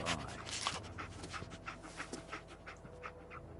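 Dogmeat, the dog companion in Fallout 4, pants in quick rhythmic huffs close by, fairly quiet, over a low background bed of game ambience and music.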